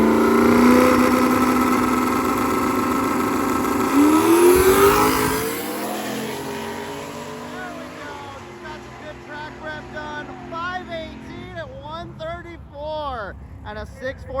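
Drag-and-drive cars launch and accelerate down a drag strip at a street-car event. A loud, rising engine roar carries through the first few seconds and then fades into the distance as people talk over the tail.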